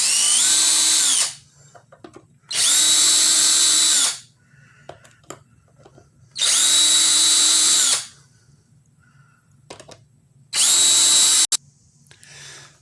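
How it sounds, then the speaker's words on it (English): A handheld Harbor Freight rotary tool, not a Dremel, grinds wood out of a Squier guitar body in four loud high-pitched whining bursts separated by quiet pauses with small clicks and knocks, no one speaking. "what I used is just this Dremel or rotary tool"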